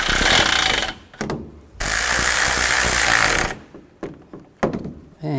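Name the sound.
tightening radiator fan bolts on a 2011-15 Kia Sorento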